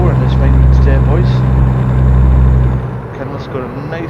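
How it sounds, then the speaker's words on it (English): A Kenworth truck engine in American Truck Simulator drones loud and low, holding a steady rumble before dropping off sharply near the end, with a voice talking over it. "Kenworth's got a nice bit of power in it."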